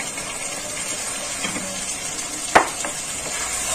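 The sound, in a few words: fried potatoes added and sizzling with mutton in pan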